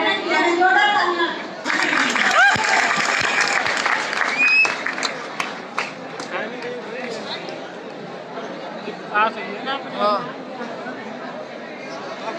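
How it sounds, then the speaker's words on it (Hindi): An audience at a polytechnic award ceremony bursts into loud applause that fades into a murmuring crowd, with scattered claps and chatter continuing afterward. "जोरदार तालियां।"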